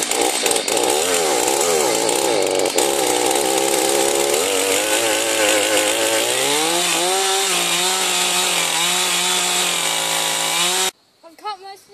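A chainsaw cuts down a tree, its engine roaring loud and close for about eleven seconds, pitch sliding upward as it bites through the wood, then cutting off abruptly, leaving a brief quiet moment.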